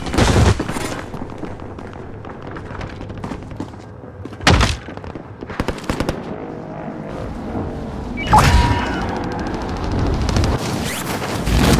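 Gunfire and impact thumps in the video game Call of Duty: Modern Warfare, with several loud bursts standing out over a steady battle din, including a strong volley near the middle and a heavier stretch toward the end.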